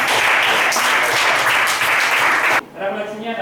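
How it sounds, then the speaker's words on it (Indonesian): A burst of loud applause from a classroom of students, steady clapping that cuts off abruptly, leaving faint chatter behind. "Tepuk tangan untuk kita semua."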